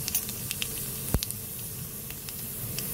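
Black cumin seeds hiss and sizzle in hot oil in a wok: a steady, fairly soft frying noise with small crackles scattered throughout and no voices.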